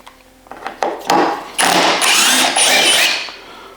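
A 4V cordless screwdriver whirs and drives a screw through two layers of plywood into a solid 2x4. A few short motor bursts come first, then a loud, sustained, straining grind that cuts off at the end.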